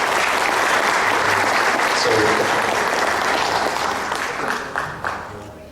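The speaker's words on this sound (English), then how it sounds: "Give him a round of applause" A crowd at a UFO conference in Edinburg gives a warm round of applause welcoming speaker Ken Gerhard; thick, sustained clapping that holds strong and then thins and tapers toward the end.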